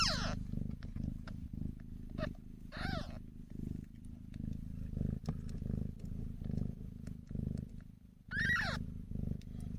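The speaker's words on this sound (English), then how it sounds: "I'm trying to get in here a little bit closer so that you guys can see the kittens up close" Kittens purr up close in a soft, steady, rhythmic throb that pulses with each breath, with a few brief high chirps or squeaks overhead.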